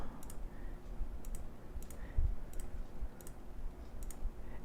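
Light computer mouse clicks during Live2D editing, about six quiet, evenly spaced taps over faint room noise, with no talking.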